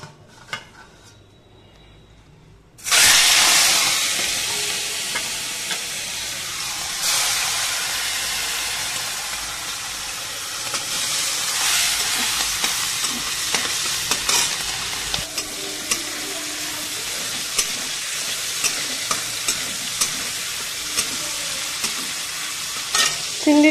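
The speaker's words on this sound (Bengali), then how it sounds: "প্রথমে ভেজে নেবো প্রনটা।" Prawns fry in hot oil in a pan, starting after a short quiet moment with a loud burst of sizzling, then steady crackling with repeated scrapes and clinks of stirring throughout.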